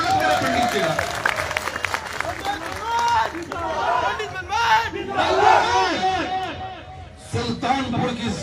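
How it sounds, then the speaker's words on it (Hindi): A political rally crowd applauds and cheers loudly, with shouts and voices rising over the clapping throughout. "तालियों की गड़गड़ाहट से स्वागत करें पंडित जी का"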